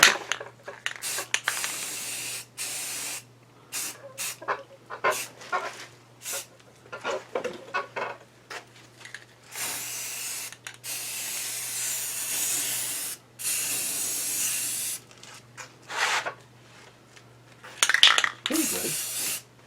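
Bursts of spray from a spray gun in a spray booth hiss on and off in short and longer blasts, with a steady low hum underneath and brief talk between.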